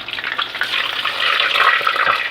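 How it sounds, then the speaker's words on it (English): Hot cooking oil poured out of a frying pan while frying corn on the cob gives a loud, close, continuous splashing pour that builds slightly in strength, heard alone. "Pour some of this oil out."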